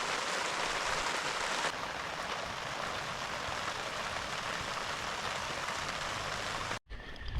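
Heavy rain falling steadily during a storm in the countryside, a constant dense hiss that stops abruptly near the end.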